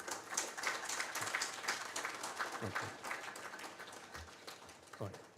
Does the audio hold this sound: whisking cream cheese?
no